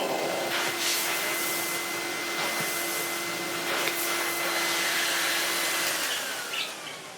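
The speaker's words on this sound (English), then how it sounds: "When you stick it super, when this floor head clamps itself down, pulls a ton of airflow" 1991 Siemens Super 914S vacuum cleaner with its floor head clamped to the floor, running at full suction with a loud, steady roaring whine and a sustained tone before easing slightly at the end.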